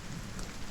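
Rain falling in the Silent Hill 2 Remake video game, a faint, even wash of rainfall that holds steady throughout.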